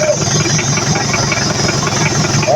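The boat MV Victory's engine runs steadily at idle, a loud, close, continuous knocking chug with an even rhythm that lasts the whole clip.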